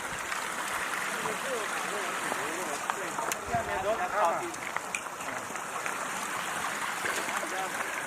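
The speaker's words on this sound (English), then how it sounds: "This is just like a little trickle to what it was coming up here." A small trickling creek in Ice House Canyon near its mountain source, a steady soft wash of running water close by, with faint speech-like murmurs drifting over it.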